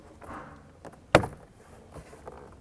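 A single sharp plastic pop cracks out as a clip on a BMW E92 door card is pried loose from the door, followed by a few faint creaks and rustles.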